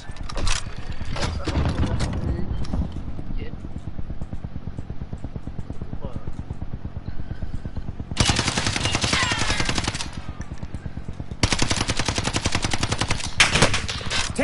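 Automatic gunfire in a shooter game rattles in rapid bursts, with a dense stretch at the start and two long sustained volleys later, loud and close, while someone talks in between.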